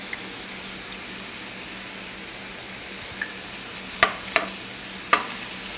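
Shrimp for zoodle scampi sizzle faintly in a pan, a soft steady frying hiss broken by a few sharp pops and ticks near the end.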